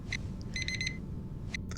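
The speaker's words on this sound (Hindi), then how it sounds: "सुबह अलार्म बजने पर आप उसे स्नूज का बटन दबा देते हैं।" Morning alarm clock going off in short bursts of bright beeping, a single beep then a rapid cluster and two more, fairly faint over steady background hiss.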